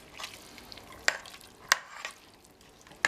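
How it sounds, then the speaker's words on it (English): A spoon stirs peanut butter smoked chicken in a pot, giving a few sharp scraping knocks against the pot over a soft background sizzle. "let's stir this up"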